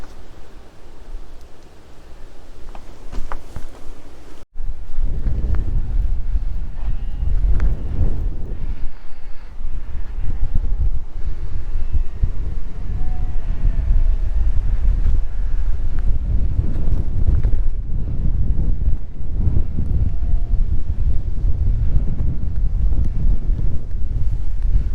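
Wind buffets the microphone outdoors near the Belas Knap long barrow, a loud, continuous roar that opens with a brief softer stretch and then stays rough and strong throughout.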